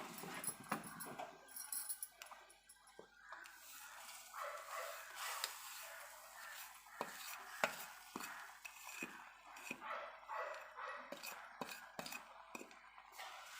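Quiet scraping and stirring of roasted semolina in boiling milk in a pot while making paal kesari, with soft clinks of a spoon against metal at an uneven pace, close and faint.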